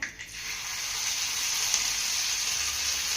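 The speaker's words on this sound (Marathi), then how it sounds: "आता हा घातलेला ठेचा आपण एक ते दीड मिनिट चांगला परतून घेऊया" Crushed garlic, green chili and cumin paste fries in a pan, giving a steady, close hiss of sizzling oil that runs unbroken with no talk.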